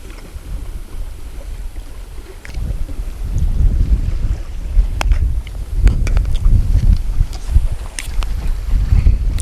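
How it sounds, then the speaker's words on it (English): Strong wind buffets the microphone on a lake while fishing, a steady roaring rumble that rises in gusts, with faint clicks and splashes beneath it. "I don't think he's gonna hear me with this wind blowing like it is."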